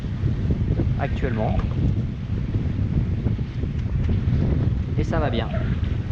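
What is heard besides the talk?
strong wind while sailing a sailboat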